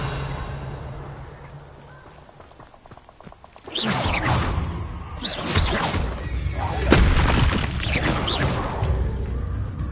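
Revelio spell cast in Hogwarts Legacy, a sudden loud magical whoosh that swells after a quiet stretch, followed by layered shimmering sweeps and deep rumbling booms that carry on to the end.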